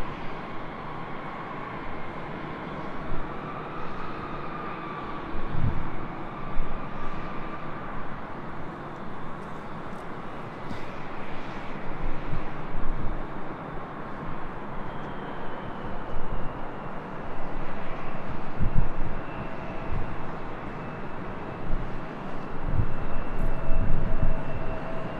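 A SkyWest-operated Delta Connection Embraer E175 LR regional jet takes off from runway 24 left, a steady broadband engine roar that swells gradually over about 25 seconds, with no talking.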